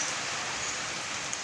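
Steady rain falling, a dense and even hiss of drops with no breaks, loud and close throughout.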